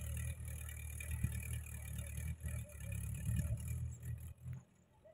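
Tractor engine running during tillage work in an orchard, a steady low rumble nearby with slight rises in revs and some clatter, fading at the end.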